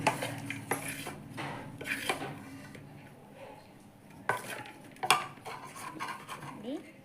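Fried curry leaf mixture stirred into rice in a pan for curry leaf rice, heard as repeated clinks and scrapes of a spoon on metal with soft shuffling of the rice, moderately quiet and without talk.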